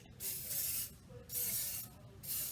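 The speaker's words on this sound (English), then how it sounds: "We're going to respray our tins." Cooking spray is misted onto muffin tins in three quick hissing bursts separated by short pauses, close and fairly quiet, with no talking.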